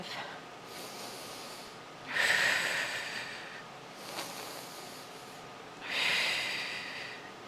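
Rhythmic breathing during the Pilates hundred exercise on a mat, with two strong, airy breath bursts spaced a few seconds apart and fainter breaths between, close and without talk.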